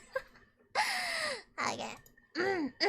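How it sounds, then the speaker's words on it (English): A woman yawns several times in short, breathy vocal bursts, each with a drawn-out falling pitch and quiet pauses between them. "My mother is yawning."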